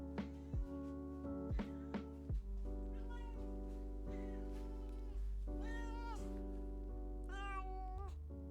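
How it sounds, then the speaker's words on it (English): A pet cat meows several times in a row, the calls rising and falling in pitch, over a steady low hum and occasional thumps, fairly close. "That's our dark cat."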